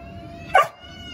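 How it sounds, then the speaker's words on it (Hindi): A dog gives a single sharp bark on command, close and loud against a steady electronic hum, with quiet before and after. "देखो ये भौंका ना"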